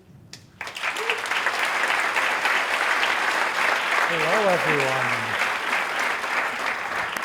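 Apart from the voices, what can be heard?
applause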